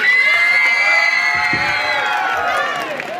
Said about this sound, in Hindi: क्लास 8 के बच्चों का जोरदार तालियों के साथ स्वागत करें।